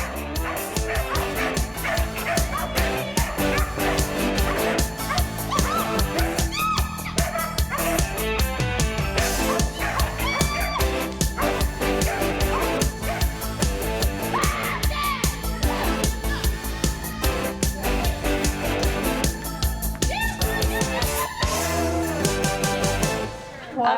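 Several dogs bark and yip almost nonstop through a lively flyball session, a dense stream of excited barks with occasional whimpers and a faint crowd underneath.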